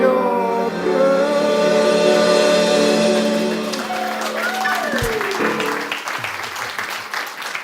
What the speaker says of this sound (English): I'm so glad you clapped